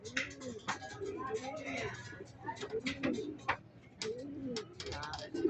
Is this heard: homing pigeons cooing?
yes